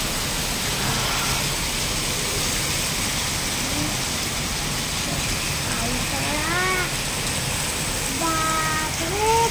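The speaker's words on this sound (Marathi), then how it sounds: "ओ गारा पडत आहे" Hail pours down steadily during a storm, a dense, loud hiss and patter that never lets up, with faint voices rising briefly near the end.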